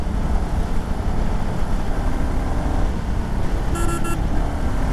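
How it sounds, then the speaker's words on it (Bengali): Two quick, short beeps of a motorbike horn sound over a steady rumble of road and riding noise. "ও হর্ণ তো সেই পুরা"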